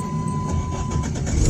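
A 1995 Ford Ranger pickup's engine starts and settles into a steady low rumble at close range, with no one talking over it.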